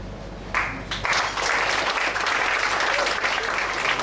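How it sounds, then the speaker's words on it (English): Enthusiastic audience applause for a performer named Auf at a spoken-word poetry slam, starting with a burst and then holding as a dense, steady wall of clapping and cheering. "Give applause to"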